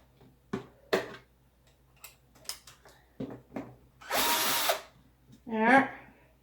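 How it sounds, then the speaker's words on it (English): Short bursts of a low-powered electric drill whirring close by as it makes holes, including a steady one-second run, between brief knocks and clicks of handling. "This is a lower powered drill, and it's good enough for making holes."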